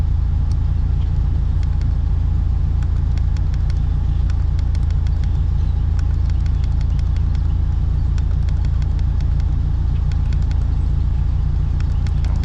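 A second-generation Mitsubishi Eclipse drives at light throttle, heard from inside as a constant, even low engine and road drone with faint ticks over it.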